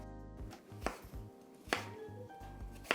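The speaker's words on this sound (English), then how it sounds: "we're just going to go ahead and chop these up" A knife chops peeled apples on a cutting board for a smoker dessert, giving several sharp, evenly spaced thunks close up with a faint hum between them and no talking.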